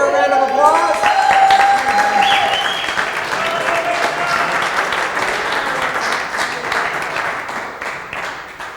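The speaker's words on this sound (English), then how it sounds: "All right, give her a round of applause." Clapping from a Rotary Club District 7690 installation banquet audience for a woman called up from the crowd, loud and dense at first and then tapering slightly, with a few voices and a tone heard over the start.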